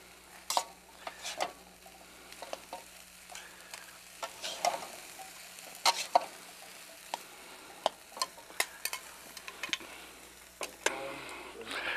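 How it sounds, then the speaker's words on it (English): Fried rice sizzling softly on the bottom of a pan, a quiet steady hiss broken by scattered clicks and scrapes of a utensil, heard up close and without talk. "that fried rice is getting nice and warm now on the bottom"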